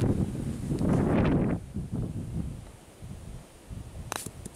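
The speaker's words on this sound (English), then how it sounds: "It's too windy." Gusty wind blows against the microphone on a golf course, loudest at first and then easing into softer rustling with a few brief clicks near the end.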